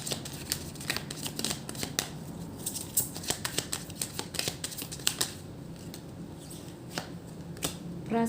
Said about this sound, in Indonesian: Saya biasa ambil kartu dari kiri ke kanan.